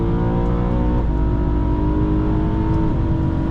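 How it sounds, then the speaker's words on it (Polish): A 2012 BMW M3 with the 4.0 V8 revs loud and close through downshifts, its engine note climbing in steady harmonic sweeps with brief blips and throttle changes near one and three seconds, with no talk over it. "Piękne tutaj są redukcje, posłuchajcie."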